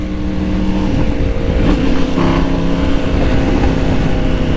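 A Honda Titan motorcycle with a loud, unrestricted aftermarket exhaust revving, a harsh, steady, close engine roar with a slight rise in pitch midway.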